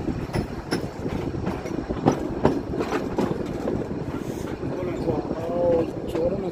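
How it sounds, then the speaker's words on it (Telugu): The Nilgiri Mountain Railway toy train near Ooty rolls along, with a rhythmic clickety-clack of wheels over rail joints, a steady carriage rumble and a brief wheel squeal near the end. "మన ట్రైన్ ఫస్ట్ స్టాప్ అయినా లౌడేలాకి వచ్చింది, జస్ట్ అలా ఆగింది, వెంటనే స్టార్ట్ అయిపోయింది."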